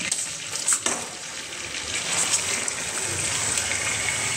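Washed, drained chicken pieces sizzle and crackle in hot bubbling butter in a pan, a steady loud fry with a brief clatter near the start and no talking.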